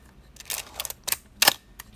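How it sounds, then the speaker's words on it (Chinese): A 1966 Canon FT QL mechanical film camera fires its shutter several times in quick succession, each a crisp close-up mechanical click-clack, the loudest near the end; nothing else is heard. "快门都正常。"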